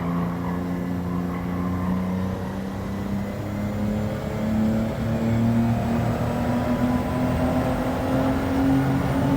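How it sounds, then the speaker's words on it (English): Car engine in Gran Turismo 7 driving through a tunnel, a steady droning hum with shifting engine tones and a boomy, enclosed wash of road noise, continuous at moderate level with no talk. "I like the accurate sound design of being inside the tunnel is very cool"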